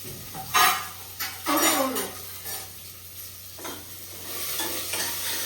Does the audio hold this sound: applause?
no